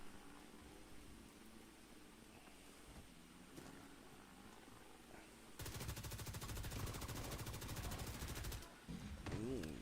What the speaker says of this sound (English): was I shooting at the building or was I actually shooting at the guy?